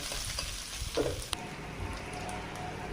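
Prawns and spinach frying in a pan, a dense crackling sizzle with a few utensil knocks and stirring sounds, loud and close with no talking.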